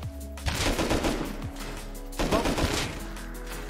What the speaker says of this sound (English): Just shoot this guy in the corner.